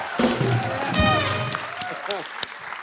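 Studio audience at a live comedy talk show breaks into loud applause, a dense wash of clapping with crowd noise that carries across the whole stretch, with voices and music mixed in.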